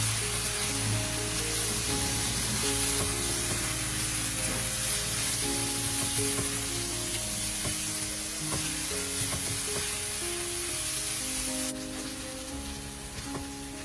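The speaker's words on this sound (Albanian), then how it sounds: "Do ta përziejmë derisa qepa të jetë zbutur." Two onions sizzle loudly with browned meat in a pot for a pea stew while being stirred, a constant dense hiss with soft utensil scrapes over steady background music.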